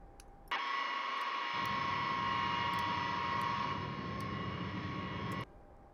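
Steady airplane engine drone in flight from the X-Plane 10 flight simulator, a loud sustained roar with a tonal whine that starts abruptly and cuts off near the end, no voices.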